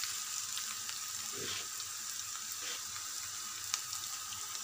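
Onions and curry leaves frying in a pan for a Telugu toor dal tomato curry, a steady bright sizzle with soft stirring scrapes, close and constant.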